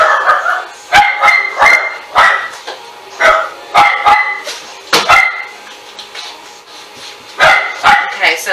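Several dogs bark sharply in a home kitchen, loud and close, in repeated bursts of two or three barks separated by short pauses, with some higher yips mixed in.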